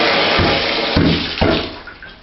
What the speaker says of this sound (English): Look at the leak coming out of the valve.